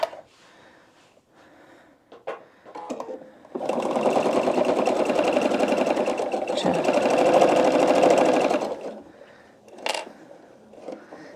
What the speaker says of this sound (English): Then we're gonna sew.